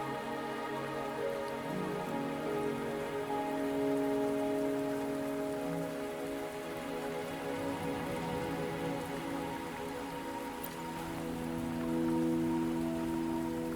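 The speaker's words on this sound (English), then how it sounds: "Are you trapped here by the rain?" Steady rain pattering on surfaces in the video game Wuthering Waves, continuous and even, layered over a sustained tonal musical drone with no voices.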